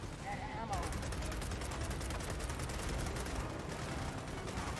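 Retro Lancer rifle fire in Gears of War, loud dense rapid bursts of gunfire running continuously throughout, with voices talking faintly underneath.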